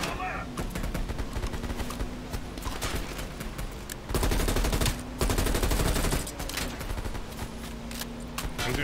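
Gunfire from the video game Black Ops Cold War, with sniper shots among dense, loud bursts of shooting and heavy combat noise that continue steadily, with louder stretches in the middle and near the end.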